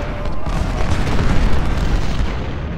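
Massed musket volleys and booming cannon fire roar through a Civil War battle in the strategy game Ultimate General: Civil War, a loud, continuous rumbling barrage with overlapping blasts and no pauses.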